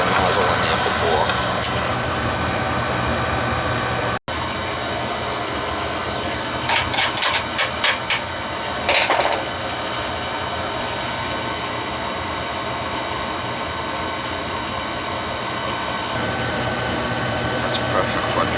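Beckett oil burner running with its flame lit during a service, a steady loud roar of burner and fan noise throughout, with a few brief clicks and taps partway through.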